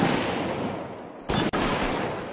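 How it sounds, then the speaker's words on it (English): Shotgun fire in a Horizon Worlds match, a loud sharp blast cutting through steady background noise, followed by a brief dropout and continued rumble. "Now we have a shotgun fight."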